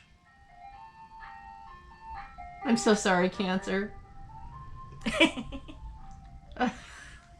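A melodic jingle from a passing ice cream truck plays steadily in the background while people talk and laugh over it.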